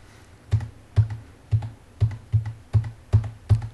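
Eight sharp computer keyboard keystrokes in a steady rhythm, each a crisp click about half a second apart, close and clear in a quiet room with no talking.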